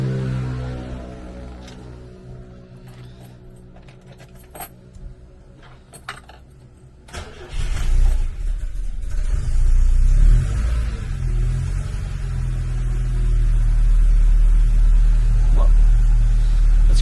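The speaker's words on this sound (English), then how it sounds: "let's start with a cold start video of our BMW 2002 TII" A Turkis green Euro-spec BMW 2002 tii makes a cold start: a quiet idle-like hum and a few clicks, then the engine catches around eight seconds and settles into a loud, steady rumbling idle.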